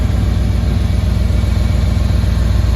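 A 1994 GMC Suburban SLE K1500 4x4 engine idles steadily with its rear muffler missing, a loud, close, deep rumbling drone with a rapid even pulse throughout.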